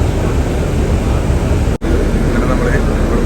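An airliner sits near the boarding area at an airport before a flight to Dubai, giving off a loud, steady, close-up roar that breaks off for a moment midway.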